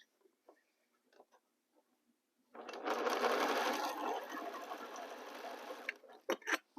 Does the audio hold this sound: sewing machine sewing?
yes